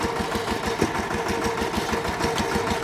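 A Mahindra tractor engine running steadily with a fast, even low-pitched chugging beat, close and constant throughout, with no talk over it.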